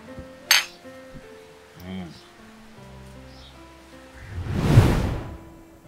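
Drinking glasses clink together once, briefly and crisply, in a toast during a romantic drama scene, followed by soft movement sounds and a louder swishing rustle near the end.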